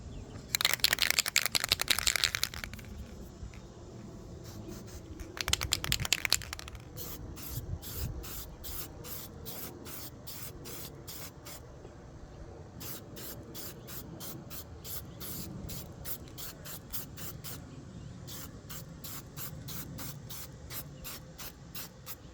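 Aerosol spray paint goes onto a Losi NASCAR RC body shell in two long hissing bursts, followed by many short, rapid, evenly spaced spritzes.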